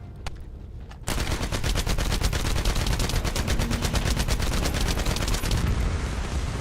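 Sustained rapid automatic gunfire from a looter shooter video game, dense and loud, starting abruptly after a second of quieter background and continuing nonstop as a heavy burst-fire barrage.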